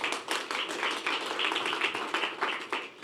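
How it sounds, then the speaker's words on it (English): Steady applause from a conference audience at a VCP disease patient and care partner gathering, many hands clapping densely and continuously with no break. "I get nervous when I stand and try to clap at the same time"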